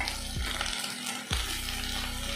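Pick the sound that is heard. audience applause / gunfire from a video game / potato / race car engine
potato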